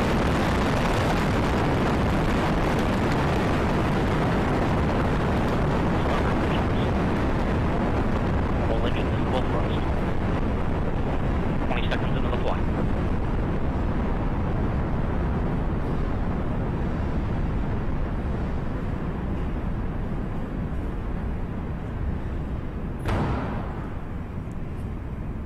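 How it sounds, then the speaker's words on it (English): A United Launch Alliance Delta IV Heavy rocket's RS-68 engines roar at liftoff in a dense, continuous, loud rumble that fills the whole stretch, with announcer commentary running over it. "We have liftoff of the United Launch Alliance Delta IV Heavy Rocket cannon carrying the NRO L-65 mission to the National Reconnaissance Office."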